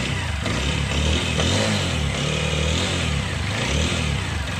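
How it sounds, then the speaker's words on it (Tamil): A TVS Apache RTR 160 4V motorcycle with a slow-speed idling fault starts and revs up close by, its engine holding a steady, loud, throbbing note with no talking. "ஸ்டார்ட் பண்ணு, ஸ்டார்ட் பண்ணி ரேஸ் பண்ணி விடுங்க."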